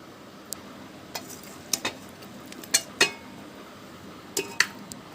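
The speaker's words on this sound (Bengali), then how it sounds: "এটা এবার প্রেসার কুকারে দিয়ে দিচ্ছি।" Mutton pieces being moved from a pan into a pressure cooker, with a run of sharp metallic clinks and scrapes from the utensils at intervals over a quiet room background.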